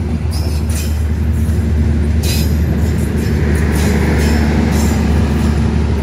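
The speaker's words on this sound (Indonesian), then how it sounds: "Berangkat dari stasiun Bangil dari jalur nomor 4" Passenger train pulling out of Bangil station from track 4, a steady loud low rumble of rolling wagons with faint wheel squeal and hiss near the platform, continuous throughout.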